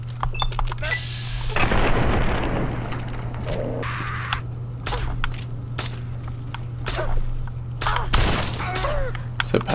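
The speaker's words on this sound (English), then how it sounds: "It's a powerful BB gun." A powerful BB gun fires in Fallout 3's Point Lookout, sharp sudden cracks and bursts scattered among other game sounds over a steady low hum, with a few louder blasts.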